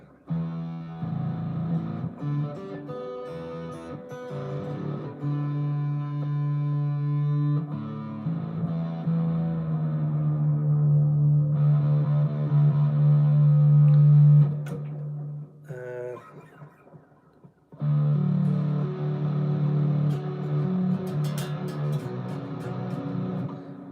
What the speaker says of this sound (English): too much distortion on that for a lead sound